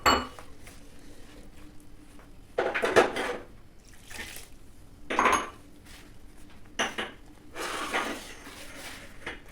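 Dough for homemade sfenj is worked by hand in a bowl with water added, giving intermittent wet slaps and squelches in short bursts separated by quieter pauses, with occasional clinks against the bowl.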